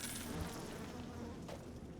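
A swarm of attacking bees in the video game Bioshock 2 buzzes in a soft, continuous insect drone for a couple of seconds, fairly quiet and alone with no speech.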